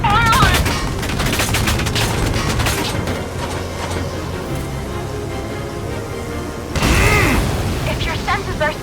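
Gunfire in the video game Valkyria Chronicles 4: loud bursts of rapid shots and booms in a combat scene, thinning out in the middle and then surging into a heavy volley near the end, with game music and voices underneath.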